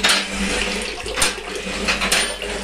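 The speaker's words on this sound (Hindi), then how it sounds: "मैं पानी तेज से ऐसे डालती हूँ ताकि अंदर का जो कूड़ा हो" Water is poured forcefully onto a kitchen floor to wash it, a loud continuous splashing rush with rough, surging bursts that lasts throughout.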